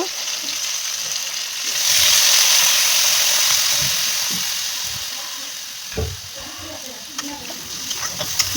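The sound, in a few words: water added to fried drumstick and potato in a hot pan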